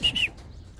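Two quick high chirps from birds at a pigeon loft, close and clear, followed by a faint outdoor murmur.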